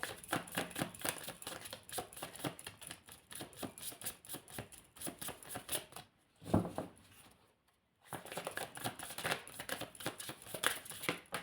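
Tarot cards handled and shuffled, a rapid run of crisp riffling flicks and taps that pauses briefly for a soft thump and near-silence, then resumes in quick, close, dry patters.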